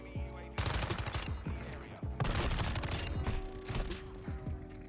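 Bursts of MX9 submachine gun fire in Call of Duty Modern Warfare 2, loud rapid automatic volleys in three long strings separated by short pauses, with faint game noise underneath.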